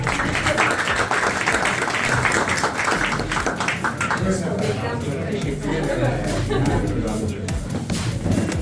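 A room full of people applauds at an exhibition opening and book launch, sustained dense clapping mixed with crowd chatter, fairly close and even in loudness, continuing for several seconds as a speaker is welcomed.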